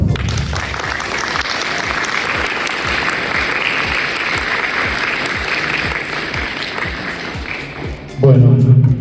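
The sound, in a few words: audience applause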